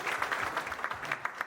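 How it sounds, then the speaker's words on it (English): A round of applause from the audience at a political town hall with Martin O'Malley, steady scattered clapping at moderate distance lasting the whole moment. "Now, big round of applause."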